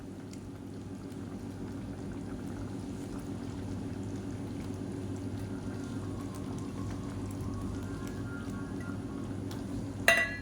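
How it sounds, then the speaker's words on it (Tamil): Boiled eggs stirred into a simmering egg gravy in a pan, a steady low bubbling and gentle stirring throughout, with a sharp clink of utensil near the end. "சேர்த்து நல்லா கலந்து விட்டுட்டு சிம்மில் ஒரு நிமிஷம் அப்படியே விட்டுடலாம்"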